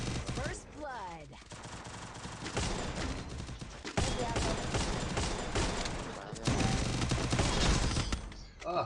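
Dense rapid gunfire in the Free Fire mobile battle game, bursts of automatic shots and single cracks layered over game music and effects, loud and nearly continuous throughout.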